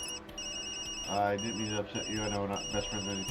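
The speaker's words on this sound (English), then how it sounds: "That's my phone." A phone rings in the video game Tokyo Dark, a steady electronic ringtone repeating throughout while a character speaks over it.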